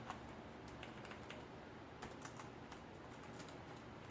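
Someone types Python code on a computer keyboard in a steady stream of light, close clicks with brief pauses, set against a quiet background hiss.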